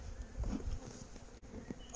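Honeybees from a newly caught swarm hum in their hive, a faint, steady buzzing close by with a few louder passes of individual bees.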